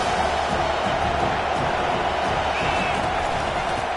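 Broadband roar of a stadium crowd in a PS5 college football game, a steady dense wash of noise with no breaks, loud and continuous throughout.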